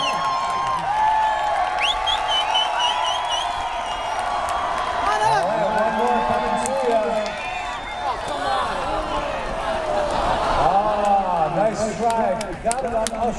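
Tennis fans at a Stanford tournament cheering and shouting as a player hits autographed balls into the stands, a loud crowd roar with whoops, while an announcer speaks over it throughout.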